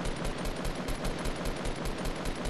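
Rapid automatic weapon fire in Fortnite, an unbroken string of evenly spaced shots at about six per second for over two seconds, loud and sharp with no talk.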